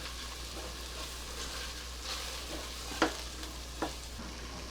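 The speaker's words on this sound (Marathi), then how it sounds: "हे आता आपण परत छान मिक्स करून घेऊया सगळं" Spiced chana dal and spinach mixture with coriander powder gets stirred in a pan, a soft steady frying hiss broken by a couple of brief spoon clicks against the metal.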